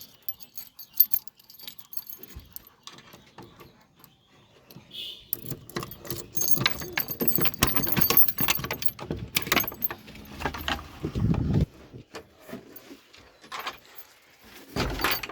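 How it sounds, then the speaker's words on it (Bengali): Keys jingle and metal clicks as a padlock on a pigeon loft door is worked open, followed by rattling and clanking of a latch and door nearby. "আমি এখন তালাটা খুলবো ভিতরে প্রবেশ করার দরজা"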